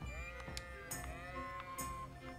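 Sheep bleat in the medieval game Kingdom Come: Deliverance, several wavering calls close by over a steady outdoor ambience, with a few sharp clicks between them and no talk.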